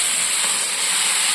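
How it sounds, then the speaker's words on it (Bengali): Vegetables fry in hot oil in a kadai seasoned with five-spice and dried chillies, giving a loud, steady, close hiss of sizzling with no talking. "এবার আমি সবজিগুলো দিয়ে দিচ্ছি।"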